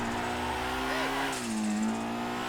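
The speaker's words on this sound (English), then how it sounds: "I don't think I've ever heard that dump valve sound in this game before." Modified 1980s Honda with a fast engine in GTA, its engine droning steadily before a fluttering, chattering hiss from the dump valve breaks out midway, with the motor still humming underneath.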